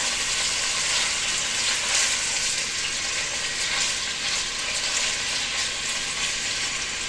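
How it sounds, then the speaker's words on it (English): Sliced turkey bacon frying in a pan, a continuous bright sizzle and crackle, loud and close, with no talking over it. "I sliced up the bacon, and it is a turkey bacon. Right now we'll just separate and cook."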